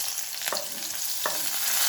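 Cumin seeds roast in a hot pan with a continuous crackling sizzle, and two quick stirring scrapes stand out close to the listener.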